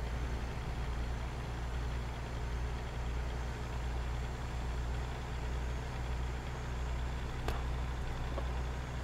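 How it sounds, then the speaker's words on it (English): Traffic passing in a truck-driving video game: a steady, continuous road and engine rumble with vehicles whooshing by, moderately loud and without speech. "cars whizzing by on the left headphone, which is pretty realistic"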